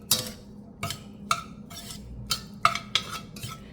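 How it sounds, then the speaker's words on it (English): A spoon stirs lasagna soup ingredients in a pot, scraping and knocking against the metal in about eight sharp, regular strokes, close and clear with no talking. "let me just mix this up real quick"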